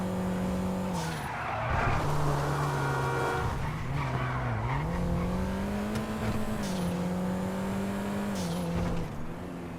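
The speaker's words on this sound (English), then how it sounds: "the way this car sounds, well, it sounds surprisingly good for a literal smart car" A smart car's small engine revs in GTA Online, its pitch climbing and dipping steadily over nearly ten seconds while tires squeal and skid loudly throughout.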